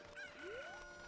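Chickens clucking in the Ocarina of Time Randomizer video game, a short squawking call with a rising sweep over steady game background sound, no talking.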